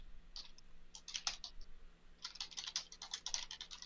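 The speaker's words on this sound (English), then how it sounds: "furious typing in the background" Furious typing rattles on a computer keyboard, quick bursts of clattering keystrokes that pause briefly and then speed up again, slightly distant and fairly quiet with no voices.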